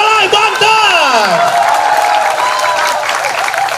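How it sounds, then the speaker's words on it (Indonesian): A live audience at a comedy competition, the Olimpiade Lawak 2020, applauds and cheers the comedy group Putra Tolay from Banten, with dense, loud, sustained clapping, whoops and crowd noise throughout, and voices shouting over it. "Tepuk tangan buat Putra Tolai Banten."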